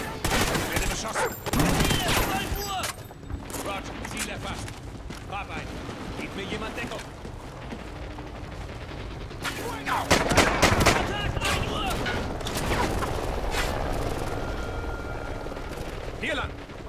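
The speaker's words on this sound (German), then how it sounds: "Ich werde beschossen." Dense gunfire and bursts of automatic weapons in the Call of Duty Ghosts campaign battle, loud and sustained with heavy volleys around two and ten seconds, mixed with shouted voices talking over the combat.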